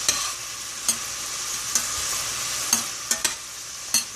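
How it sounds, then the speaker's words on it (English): Onion and celery being stirred in a pressure cooker pan, with a steady sizzle of frying beneath sharp spoon scrapes and clinks against the pan at intervals; no talk. "Give it a stir."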